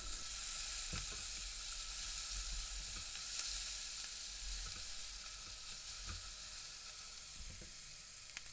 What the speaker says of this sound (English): Add the garlic and ginger paste and fry for a minute to release the flavours.